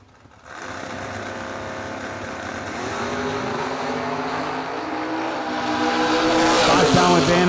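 A Chevrolet drag car, a 4th-gen Camaro among them, roars at a bracket drag race, the engine note rising steadily in pitch and loudness as it accelerates away.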